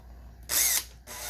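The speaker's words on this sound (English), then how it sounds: "Y'all can watch me drill a hole." A power drill bores a hole in a 2006/2007 Saturn Vue rear bumper, a short whirring burst near and loud that stops, then starts again.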